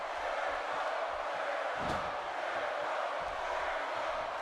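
A dense, steady roar of a wrestling arena crowd in the WWE 2K18 video game fills the space, a constant wash of cheering with a brief sharp thud of impact partway through.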